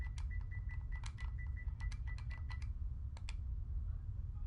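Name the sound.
typing on a computer keyboard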